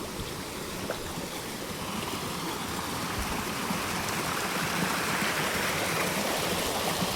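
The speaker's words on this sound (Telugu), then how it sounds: "డే అండ్ నైట్ ఇలా వస్తుంటే ఎంత వాటర్ వస్తుంటుంది" Water flows continuously in a stream near a flooded area where groundwater levels are high, a steady broadband rush that grows slightly louder over time, with no voices.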